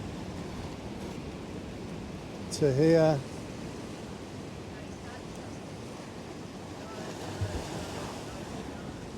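Ocean surf washes steadily against jagged coastal rocks, a broad continuous roar of water and wind filling the scene, with a short spoken remark cutting in briefly near the start.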